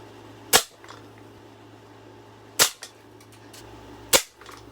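A Daisy Model 25 BB gun fires three sharp, loud cracks at roughly two-second intervals, each shot striking a shingle at close range against a quiet background.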